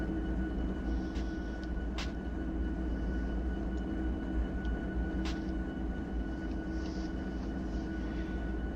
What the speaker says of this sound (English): That train is right there now. That is the scary train.